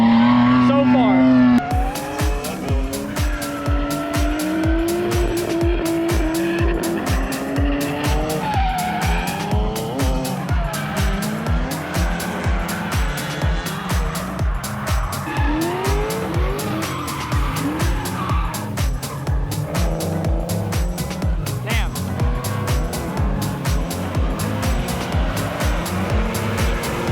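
Drift cars at Thunderhill raceway, engines revving hard in a steady pulsing rhythm with tires squealing and skidding nearly throughout, loud and close, with voices talking faintly underneath.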